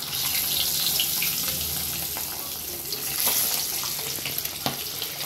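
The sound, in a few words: eggs frying in hot oil with turmeric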